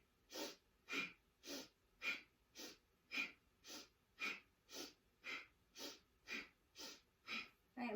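Rhythmic yoga bellows breathing, a sharp nasal sniff paired with a puff about every half second, a dozen even bursts close to the mic with no talk.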